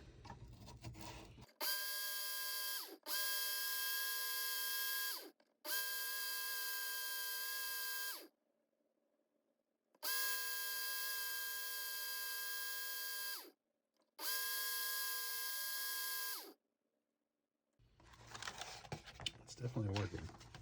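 A Work Sharp Ken Onion Edition electric knife sharpener grinding dull knives runs in five bursts of a loud, high, steady motor whine with brief silent gaps between them, and a voice comes in at the start and end.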